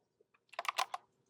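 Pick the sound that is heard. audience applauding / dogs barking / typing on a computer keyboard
typing on a computer keyboard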